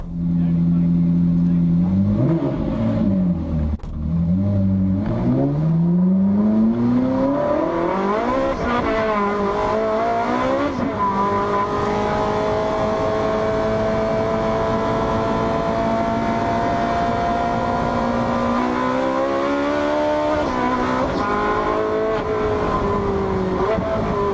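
A Ferrari race car takes passenger hot laps on a very wet track, its engine heard from on board as it climbs and falls through the gears with loud revving, rising and dropping in pitch, while a voice talks over it.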